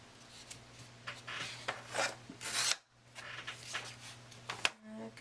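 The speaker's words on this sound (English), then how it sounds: "I'm just going to cut them into little strips." Scissors snip card into little strips close up, giving quiet irregular rasping cuts with brief pauses between strokes and a low steady hum behind.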